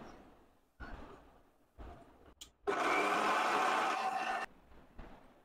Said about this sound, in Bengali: এখন আমি ব্লেন্ডার ইয়ে করবো